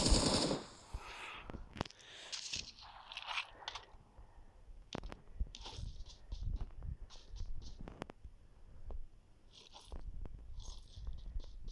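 Gunfire in the mobile battle royale game PUBG New State, with sharp shot bursts and scattered single reports over about twelve seconds amid in-game clatter and rustle.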